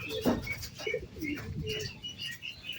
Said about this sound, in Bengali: তো এই যে হাই ফ্লাইং কবুতরগুলো এই দেখুন, বসতে গেলে পরে কতটুকু সময় নেয়।